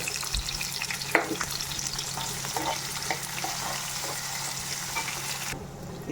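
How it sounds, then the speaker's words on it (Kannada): Onions frying with mustard seeds, cumin, curry leaves and green chillies for sabudana upma, a steady close sizzle with occasional stirring scrapes and small pops, fairly loud and continuous. "ಹಸಿಮೆಣಸಿಕಾಯಿ ಬೆಂದಮೇಲೆ ಈರುಳ್ಳಿ ಹಾಕೋಣ"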